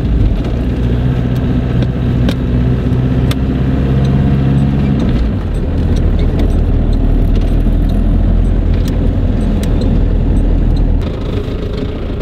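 A Jeep Cherokee XJ drives along after clutch and welded gearbox repair, its engine drone and road rumble steady and close, with a shift in engine note midway and wind noise over the interior.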